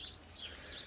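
Small birds, including a sparrow, around a garden pond give faint, high, brief chirps, three short tweets heard at a distance with no talking.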